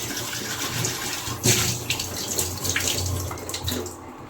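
Water runs from a tap indoors, a fairly faint steady gushing stream with a brief louder splash partway through as the flow hits a vessel.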